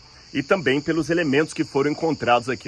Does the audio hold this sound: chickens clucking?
no